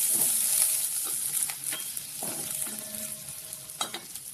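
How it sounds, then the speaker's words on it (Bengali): Onions fry in hot oil in a wok for Kashmiri dum aloo, with a steady close hiss of sizzling and occasional stirring scrapes of a spoon, no talk. "এটা কড়াই তেল গরম করে পেঁয়াজ দিয়েছি এর মধ্যে।"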